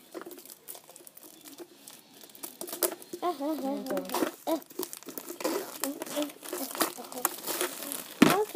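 Surprise box package being opened, with crinkling and tearing of wrapping throughout, several sharp rustles and a louder crunch near the end, while a person talks over the handling.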